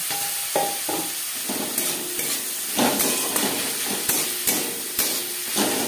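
Onion frying in a pan as ginger paste and garlic go in for an egg curry, with a steady sizzle broken by several sharp clanks and scrapes of a utensil against the pan.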